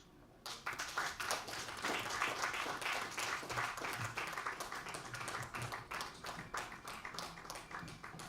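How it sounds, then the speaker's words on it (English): Audience applause after a keynote speech at a national conference on election early warning in Uganda: dense, sustained clapping from a crowd that swells quickly and holds steady for several seconds, fairly distant in a large hall. "give another round of applause to Dr. Ruhweza Daniel for the great keynote speech he has given us"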